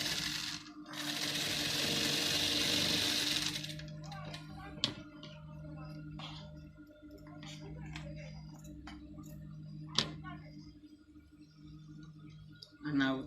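A sewing machine top stitches a stretchy gown in one loud, fast whirring run of a few seconds, then quieter clicks and small handling taps follow under a voice.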